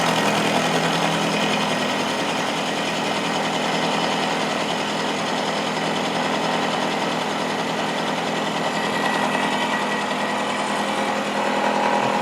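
A metal-cutting machine takes a cut of about 120 thousandths on a straight edge casting with the spindle near 355 RPM, giving a steady, loud, continuous grinding whine that holds evenly throughout with no talk.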